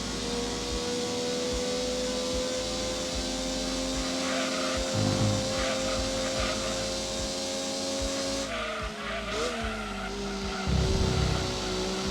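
A race car engine from the Gran Turismo 2 video game drones steadily and loudly throughout, its pitch holding with small shifts and a gear change near the end, along with faint tire squeal.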